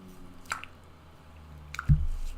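Eight tea bags squished and pressed in water, giving soft wet squelches and drips, a couple of quiet bursts with a heavier squish near the end.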